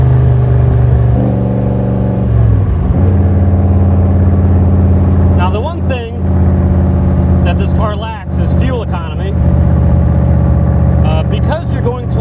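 The engine of a 1965 Superformance Cobra, heard close up while driving, drones loudly and shifts pitch as it revs, with a clear gear change early on. Someone talks over the engine noise.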